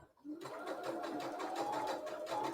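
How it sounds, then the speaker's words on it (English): A sewing machine starts up and runs in one fast, steady buzz as it stitches down a small pocket flap on a pair of leggings, close and clear with no talking. "We're just stitching down that little pocket flap."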